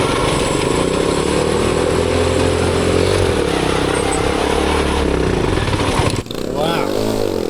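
A turbocharged engine on a five-speed Corvette go-kart runs loudly and steadily up close, with a rough, continuous drone that briefly cuts out and then picks back up.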